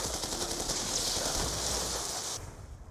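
Dragon Fire gun in the game Black Ops 2 firing a continuous rapid automatic stream for about two seconds, loud and hissing, cutting off abruptly near the end.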